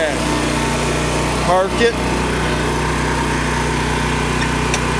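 A riding lawn mower engine runs at a steady, close, buzzing drone, with a person speaking briefly over it.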